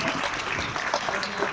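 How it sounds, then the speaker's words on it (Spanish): Brief, dense clapping from a community audience at a posada and pastorela celebration, greeting costumed children in the nativity play, even and unbroken throughout. "Démosles un fuerte aplauso."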